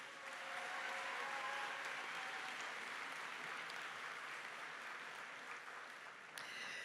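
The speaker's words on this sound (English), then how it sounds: "Please give them a round of applause." Sustained applause from a large crowd at a high school graduation ceremony, steady and even throughout, fading slightly toward the end.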